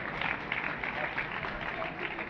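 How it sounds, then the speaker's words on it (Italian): An audience applauds at the Bologna football club's Serata Rossoblu evening as former player Franco Colomba is welcomed. The clapping is dense, continuous and crowd-wide, filling the room without a break. "Eccolo, un applauso."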